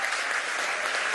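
Audience at a Venezuelan government event applauding a band, a brief, dense burst of many hands clapping, steady and fairly loud.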